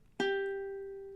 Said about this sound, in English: then 3 on the E with our ring finger